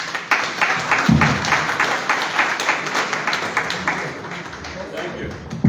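Steady applause from an audience after a speech at a Liberian government launch event, dense continuous clapping filling the room throughout.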